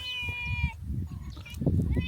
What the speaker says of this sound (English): So there's Mr. Cat.